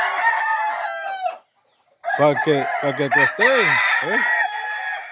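Fighting roosters crow repeatedly on a ranch, their calls loud and close, with clucking mixed in and a brief silent gap; a person speaks briefly over the birds.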